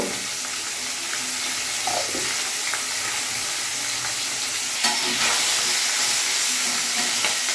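Pieces of charapona fish fry steadily in hot oil, a continuous loud sizzle and hiss with occasional spatters and soft stirring clinks, no voices.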